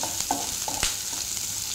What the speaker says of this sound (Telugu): కరివేపాకు, ఉల్లిపాయలు, పచ్చిమిర్చి వేసి వేగించాలి.